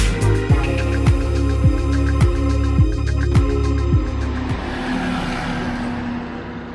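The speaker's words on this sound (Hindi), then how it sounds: "पहले तो पूरे अच्छे से आवाज़ आई नहीं होगी क्योंकि गाड़ी चल ही रही थी" A car engine hums steadily while the vehicle is moving at night, a low rhythmic drone with regular pulses, close and continuous before it fades into rougher road noise.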